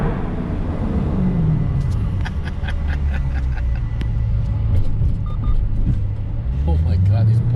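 A Dodge Challenger 392 fitted with Dynomax Race Bullet mufflers rumbles loudly and continuously as it rolls through an enclosed parking garage. The deep exhaust drone echoes, with a muffled voice mixed in.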